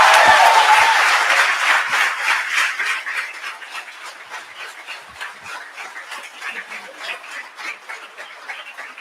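An audience at the SIHH 2022 grand finale claps, loud at first and then thinning into scattered, fading claps over several seconds, with a few whoops mixed in.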